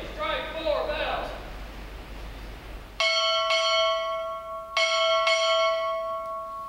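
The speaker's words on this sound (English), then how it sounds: "strike 4 bells" A ship's bell at a naval recruit graduation ceremony rings out in two pairs of clear metallic strikes, four in all, each leaving a long ringing tone. Crowd noise and talk come before the strikes.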